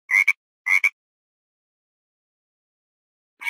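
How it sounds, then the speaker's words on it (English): A frog croaks in short, loud, close rasping bursts, first a quick double call and then a second pair, with silence between and another croak starting at the end. "Frog."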